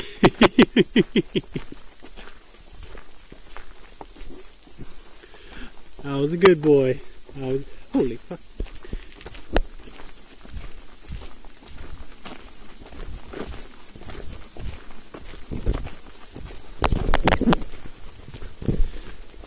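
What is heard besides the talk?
cicadas chirping in New Zealand nature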